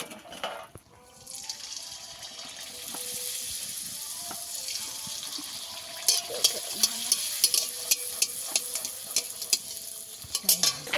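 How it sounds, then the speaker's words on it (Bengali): Fuchka (panipuri) puris fry in hot oil with a steady bubbling sizzle, growing busier midway, punctuated by repeated sharp spoon or ladle clinks near the end. "এই ফুচকাগুলো আমার ভাজা হয়ে গেছে"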